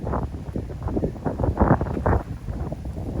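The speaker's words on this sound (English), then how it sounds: "Now that wind is picking up. It is really getting brutal." Strong, gusty wind buffets a microphone outdoors in a garden during fertilizing, a steady broadband roar rising and falling in bursts over the whole span, with no talk.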